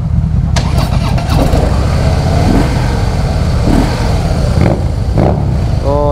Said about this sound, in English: Oh, the engine feels so smooth.